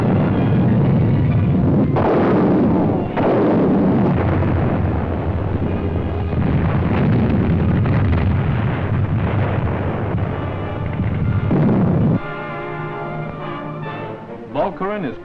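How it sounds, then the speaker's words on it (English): Artillery guns shelling Beveland during the Second World War, heard as loud, dense rumbling bursts and booms continuing throughout, recorded in a rough, noisy newsreel soundtrack that turns to music near the end. "Beveland is shelled by our guns"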